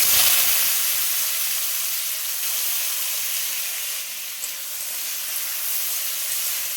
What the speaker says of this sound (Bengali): দেখো এটা আমি ভালো করে ভেজে নিই